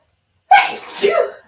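A single sharp sneeze bursts out after a moment of silence, close and loud, trailing off in a breathy release.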